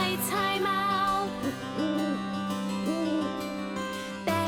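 An owl hoots repeatedly at night in a forest, its soft wavering calls set over a steady background of light music.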